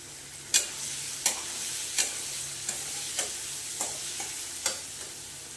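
Chicken and green chillies fry with a steady sizzle while a spoon scrapes the pan in regular knocking strokes roughly every half second, close and moderately loud.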